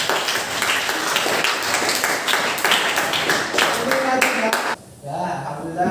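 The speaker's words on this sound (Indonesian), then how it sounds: "Tepuk tangan untuk kalian" Schoolchildren clapping in a classroom, a close, busy burst of many hands that cuts off abruptly, followed by a teacher's voice speaking.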